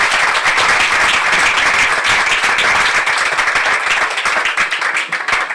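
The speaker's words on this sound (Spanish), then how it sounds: "Denle un aplauso a Jesús con todo su corazón." A church congregation at a sermon breaks into loud, dense applause, many hands clapping together for several seconds before it thins out toward the end.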